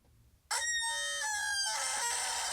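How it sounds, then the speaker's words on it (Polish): A chicken crowing sound plays from a phone app at full volume, a sudden loud, close, harsh crow that holds for about two seconds after a quiet lead-in. "Głośność na maksa i zobaczmy, który z kurczaków jest głośniejszy"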